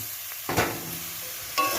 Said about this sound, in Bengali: ব্রোকলিটা দিয়ে হালকা করে নাড়াচাড়া করে নেবো